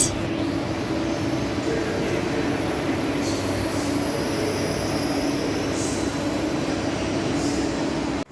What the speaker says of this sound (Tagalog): So we need to wait for our train, yung express train. So ayan na pala siya.